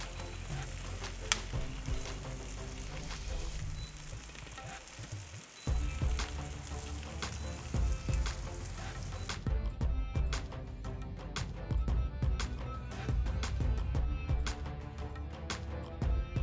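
Bread slices fry in butter in a pan with a steady close sizzle and crackle that continues throughout, joined by scattered light pops and a denser burst of crackling in the latter half.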